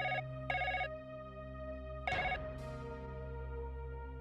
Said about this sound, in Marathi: फोन वाजतो.